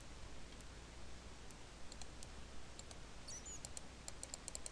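Faint, sparse right-clicks of a computer mouse, tiny ticks scattered over steady background hiss, with nothing else prominent.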